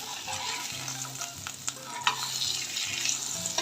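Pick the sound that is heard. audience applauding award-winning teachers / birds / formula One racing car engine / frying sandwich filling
frying sandwich filling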